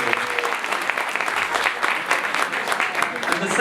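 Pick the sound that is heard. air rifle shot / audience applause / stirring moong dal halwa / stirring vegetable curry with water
audience applause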